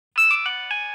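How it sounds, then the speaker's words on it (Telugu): A phone rings with a bright electronic chime, a quick series of clear tonal pulses over about a second, close and loud against silence. "నాగోని ఫోన్ చేస్తుందేంటి?"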